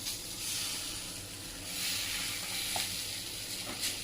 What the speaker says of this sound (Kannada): ಇವಾಗ ನಾವು ಇದನ್ನು ತವ ಮೇಲೆ ಹಾಕ್ಕೊಳ್ಳೋಣ